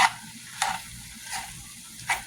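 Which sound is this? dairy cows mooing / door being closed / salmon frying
salmon frying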